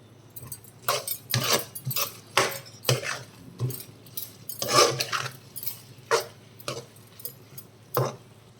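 Metal spoon stirring tomatoes in a frying pan, repeated irregular scrapes and clinks against the pan, close and distinct over a quiet background.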